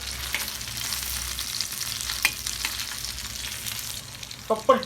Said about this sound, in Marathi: आता या साईड पण पाच मिनिटं शिजू द्यायचंय आहे